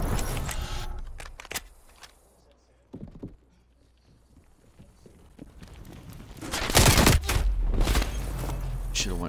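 Call of Duty Black Ops Cold War gunfire, with bursts at the start and a heavier loud volley later, spaced by quieter stretches; a voice talks in between.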